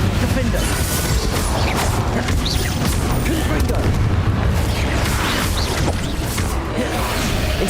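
Spell explosions from the Bombarda spell in Hogwarts Legacy crash in a dense, continuous barrage of deep booms and rumbling blasts, loud and close, with layered combat noise throughout.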